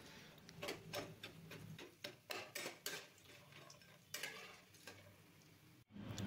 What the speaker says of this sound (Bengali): কড়াইতে তেল গরম হয়ে গেছে, এবার ডালের বড়িগুলো লাল করে ভেজে তুলে নেব।